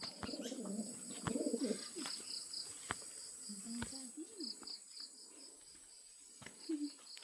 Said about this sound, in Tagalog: Ito yung mga kalapati natin.